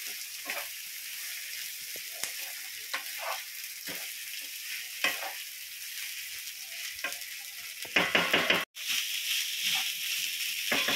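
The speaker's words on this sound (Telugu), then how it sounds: "సో దీన్ని ఫ్రై చేసుకుంటున్నాం" Leftover white rice fries in a pan with a steady hissing sizzle, broken by repeated scraping strokes of a spatula and a rapid burst of tapping clatter near the end.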